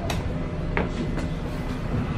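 Rumbling tram noise with rhythmic clacks and brief metallic squeals, a steady low roar throughout, no voices.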